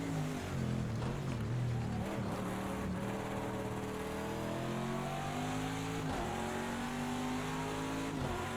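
A race car engine in Project Cars, driving a Chevrolet in IMSA GTD Pro racing at Circuit of the Americas, drones steadily at high revs, its pitch rising and dipping through shifts and corners, loud and continuous with no talk.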